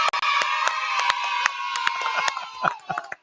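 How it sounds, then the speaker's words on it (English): An audience at a 2024 election rally claps and cheers for a man named Gerald. Sharp scattered claps mix with raised voices and shouts, fairly close, with dips between bursts. "Give Gerald a round of applause, everyone"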